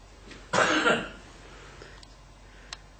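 One person gives a single harsh cough lasting about half a second, close and distinct, followed by quiet room noise and a faint click.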